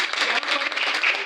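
Brief, loud burst of enthusiastic audience applause at a direct selling industry event, a dense continuous clatter of many hands lasting just over a second.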